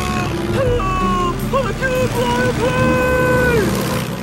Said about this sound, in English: No idea how we started the engine.